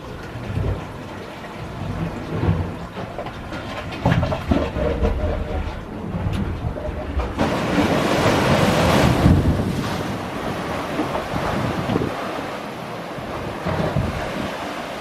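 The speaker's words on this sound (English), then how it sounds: "The waves coming down through there. Like a boiling pot down there." Ocean waves churn and crash below coastal cliffs on the Cape to Cape Track in Western Australia, a broad rushing roar that surges midway, partly mixed with gusty wind buffeting the microphone.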